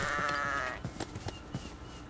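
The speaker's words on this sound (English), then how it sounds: "Oh, here's another white sheep." A sheep in Minecraft gives a single wavering bleat up front, followed by a few soft footstep-like taps in the game world.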